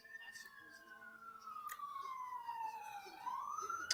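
A siren wails in a long, falling sweep and then climbs again, moderately loud and somewhat distant, over faint background noise.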